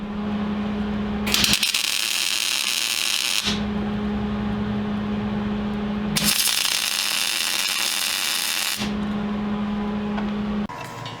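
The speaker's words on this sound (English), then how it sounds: "we'll get a couple spot welds on here." Two or three bursts of spot welding on a plate for a DIY engine lifting fixture (load leveler) for a Jeep/Dodge/Chrysler 4.7 engine, each a loud broadband crackle lasting a couple of seconds over a steady electrical hum.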